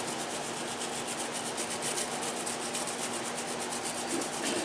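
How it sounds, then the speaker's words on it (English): A conductor brush scrubbing the conductor of a 35 kV power cable during termination prep; steady, fast, rhythmic bristle scratching, close and continuous, with no talking. "brush your conductor"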